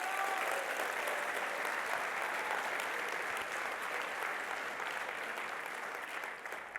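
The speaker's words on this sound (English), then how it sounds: "Can you give them a round of applause?" Steady, dense applause from a keynote audience fills the whole stretch, loud and even with no voices on top, easing slightly at the very end.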